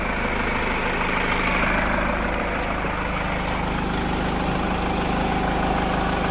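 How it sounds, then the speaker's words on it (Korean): A SsangYong Actyon Sports engine idles steadily with almost no shaking, a continuous low rumble with a faint vibration, close and even throughout with no voices. "엔진 상태가 아 떨림이 거의 없습니다"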